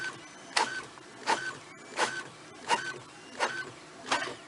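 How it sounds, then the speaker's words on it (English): A Brother printer runs through pages, a fairly quiet mechanism with six regular feed strokes about every 0.7 seconds, each a short whirring swell, close by with no talk. "You can see it is relatively quiet as it prints."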